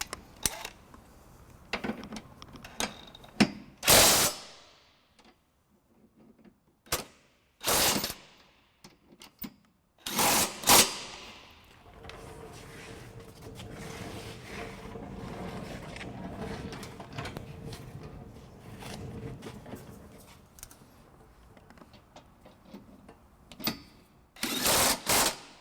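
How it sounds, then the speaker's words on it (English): Several short, loud whirring bursts of a power drill driving a 19mm socket onto bolts while installing a trailer hitch on a 2015 Scion xB, separated by pauses with clinking and handling sounds. "we'll just snug them up with the drill motor here"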